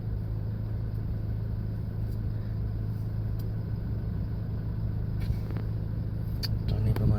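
A tour vehicle sits idling at a red light in Vientiane traffic, giving a steady, low engine rumble with a constant surrounding road hum throughout.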